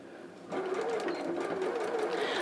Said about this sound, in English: and we do a reverse stitch